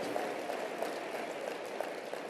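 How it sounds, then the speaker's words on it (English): Audience applause at a motivational speech, a steady dense wash of clapping that holds at an even level from start to finish, with no voices over it. "Give yourselves a round of applause for giving people another shot, another chance."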